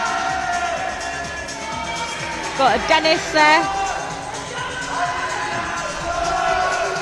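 A crowd cheers and whoops at an ice climbing competition on a climbing wall in Sunderland, rising in a brief burst of shouts over an ongoing din, while a commentator talks.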